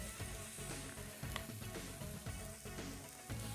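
Red claw crayfish fry in butter with chilli and garlic in a pan, a steady dense sizzle and crackle that fills the whole stretch without pause, with no talking.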